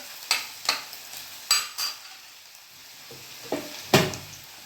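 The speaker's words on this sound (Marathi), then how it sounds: "इकडे हा कांदा पण होतो आहे बारीक गॅसवर" Chopped onion frying in oil over a low gas flame, with faint steady sizzle broken by several sharp stirring scrapes of a spoon against the pan; no talking.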